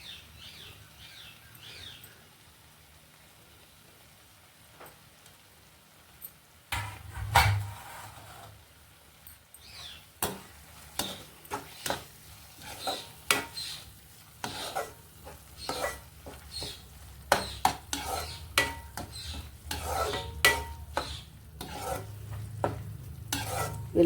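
Tempering spices frying in a pan for a tomato and fenugreek pickle, quiet low sizzle at first, then repeated scraping stirs and crackling spatters, growing louder and busier, with faint birdsong in the background.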